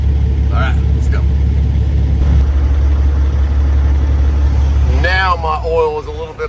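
A semi truck's diesel engine idles with a deep, steady low rumble just before shutdown, and someone talks over it near the end as the sound begins to fade.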